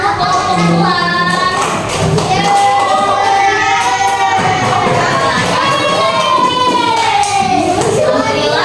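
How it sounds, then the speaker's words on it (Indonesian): Children clapping and cheering in a classroom after a girl is praised, a lively burst of hand claps mixed with excited shouts and chatter from many young voices, close and loud. "Tepuk tangan untuk perempuan"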